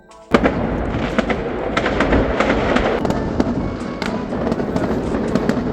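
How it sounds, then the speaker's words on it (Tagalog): New Year fireworks burst in suddenly and keep exploding among buildings, a thick, loud stream of cracks and bangs with sharper pops scattered through. "Sa dami ng paputok dito guys, pati building na putukan."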